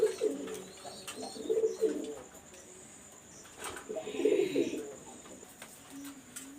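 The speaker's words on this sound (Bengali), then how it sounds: "এই দেখেন এখানে যে কবুতরগুলো আছে আমি তা শুধু আপনাদের দেখাচ্ছি।" Teddy golden pigeons in a loft coo softly in two rounded, throaty bursts, with faint chirps and light rustling between them. The birds sound close, and the surrounding space is otherwise quiet.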